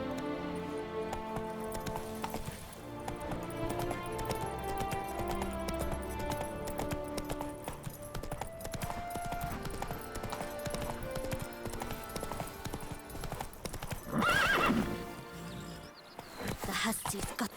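Roach, Geralt's horse in The Witcher 3: Blood and Wine, trotting with rhythmic hoof clops half-buried under game music and ambience, with a short louder flurry near the end.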